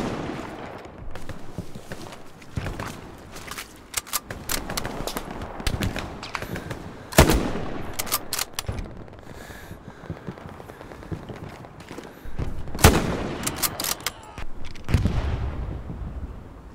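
Sharp shots crack repeatedly in Hell Let Loose, a World War II shooter, with scattered single and clustered bursts over a steady rumble of distant battle, some reports loud and close, others far off.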